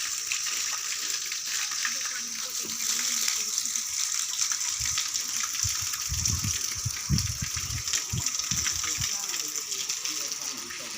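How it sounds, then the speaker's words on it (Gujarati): Water pours continuously over a Shiva lingam inside a temple as an abhishek, a steady gushing flow with louder low splashing bursts midway. "ડાયરેક્ટ અભિષેક થાય 24 કલાક પાણી"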